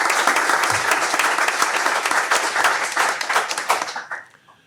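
Audience at a symposium on sustainable smart cities applauds Dr. Mohammed Al Ali, a loud dense burst of clapping that holds steady for several seconds, then thins into scattered claps and fades out.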